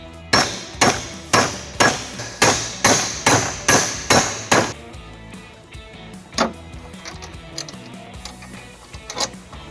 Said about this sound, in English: I'm going to use a hammer to flatten it out.